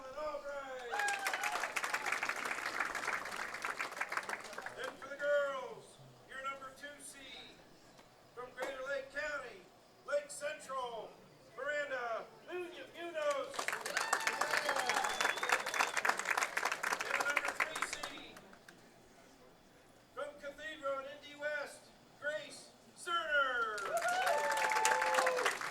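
Crowd cheering and applauding at the Indiana high school bowling state finals in long swelling waves, with commentators talking between and over the bursts.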